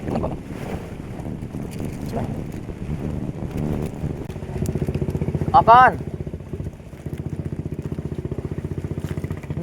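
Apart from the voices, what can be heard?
boat passing by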